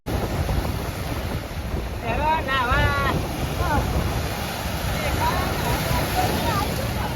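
Sea at the end of Ram Setu, Rameshwaram: steady wind and surf roar fills the whole stretch, with the wind buffeting the microphone and a few high whistling tones briefly rising over it.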